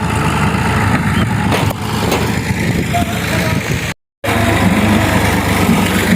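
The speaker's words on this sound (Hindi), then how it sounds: "ट्रैक्टर को ज़्यादा ज़ोर लगाना पड़ता है" Tractor engine labouring under load in a field where cotton ridges were left, a loud, steady mechanical roar that runs nearly throughout, broken by one short dropout.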